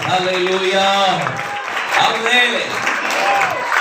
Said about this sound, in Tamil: கைத்தட்டி ஆண்டவரை மயமப்படுத்துவீங்களா